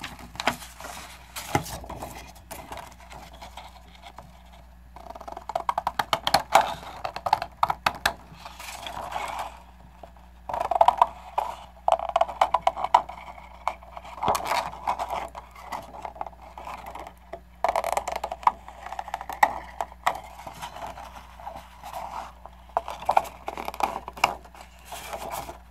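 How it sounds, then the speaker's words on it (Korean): Scissors snip through a paper pattern for a country-style cloth doll, a steady series of close, crisp cutting clicks and rustles with short pauses in between. "가위로 오려주세요."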